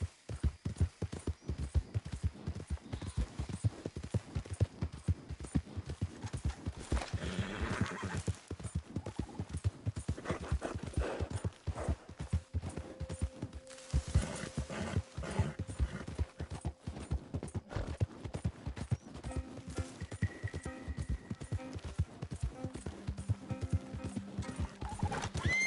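A video game horse clip-clops at a steady trot, the rapid hoof beats running close and continuous with brief neighing and whinnying throughout.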